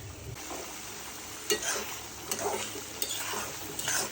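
Big prawn curry frying in a pan as a little broth goes in, with steady sizzling and a few sharp hissing bursts and utensil stirs close by.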